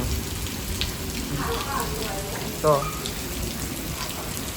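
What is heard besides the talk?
heavy rain with thunder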